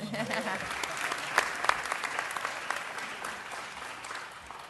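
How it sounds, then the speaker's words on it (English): A round of applause at a city council meeting honouring a past Olympic athlete: a moderately distant crowd claps steadily for a few seconds with scattered sharper claps, and a voice sounds faintly at the start. "Let's give him a round of applause."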